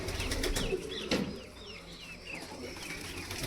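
Pigeons being fed grain give soft coos and calls over a steady, muffled background. Several birds are heard close by at moderate volume.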